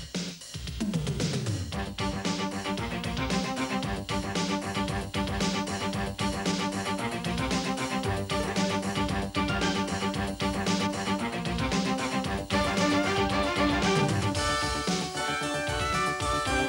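Title-sequence theme music for a TV pilot plays loudly and continuously, a full dense instrumental arrangement with steady rhythmic hits, with no voices.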